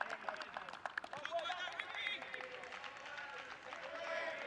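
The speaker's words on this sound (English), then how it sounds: "Gets a good ovation as well from, it's quite a healthy crowd for a Monday night" A healthy cricket crowd at a night T10 match in Gibraltar applauds a departing batsman, a distant spread of clapping and cheers running under close commentary.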